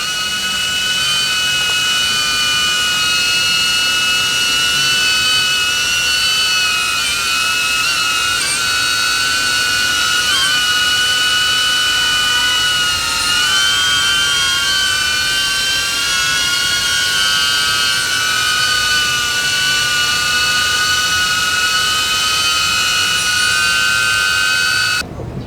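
DJI Avata FPV drone hovering up close, its propellers giving a loud, continuous high-pitched buzz that holds steady with slight wavering in pitch for the whole stretch.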